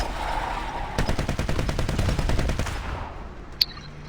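Tank gunfire in War Thunder Mobile, a loud rapid machine-gun burst of evenly spaced shots lasting about two seconds over a steady engine rumble, followed by quieter rumble and a single sharp impact crack.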